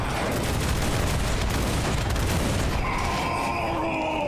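Bombard siege fire in the fantasy strategy game War for the Overworld, a dense loud barrage of booming, crackling battle blasts that rumble on continuously with no talk.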